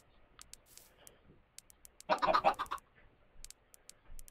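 Sparse, sharp clicking in a Minecraft world on hard mode, single ticks scattered across quiet moments, with a short, louder scratchy burst midway.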